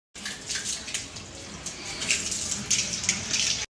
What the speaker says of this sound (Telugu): ఇది వాష్ చేసుకుందాం.